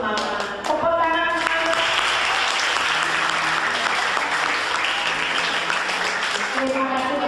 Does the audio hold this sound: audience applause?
yes